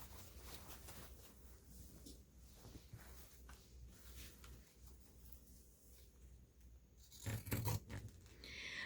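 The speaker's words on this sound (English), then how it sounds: "I just need to know approximately where to cut" Scissors snip through fabric for a junk journal cover, a faint quiet crunch of cuts building to a short, slightly louder burst of snipping near the end, with no talking.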